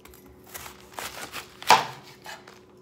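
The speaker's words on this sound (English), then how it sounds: "you just wanna cut just this little end off right there on both sides" A knife slicing the uneven ends off a thick cabbage steak on a cutting board, heard as a few soft cuts with one sharp, louder chop near the end, close and without talk.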